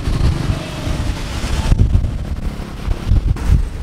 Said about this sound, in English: We'll just stop at this coastline, but it's super windy, as you can see.